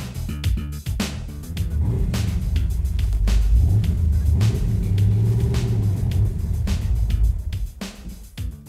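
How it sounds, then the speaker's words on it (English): A 1966 Corvette Stingray engine rumbles deep and loud while driving, with a steady throaty drone that swells and eases, close by and with no talking. "It's a 1966 Corvette Stingray."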